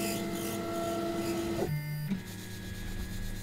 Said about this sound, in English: There's a rattling noise coming from this pulley, which I have not heard before, which is a bit of a worry.